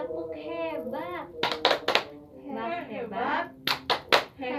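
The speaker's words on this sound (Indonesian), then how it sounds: "Kita kasih tepuk hebat, tepuk hebat." A group performs a rhythmic chant with claps: sung voices alternate with bursts of sharp, loud hand claps in short patterned sets, all fairly close.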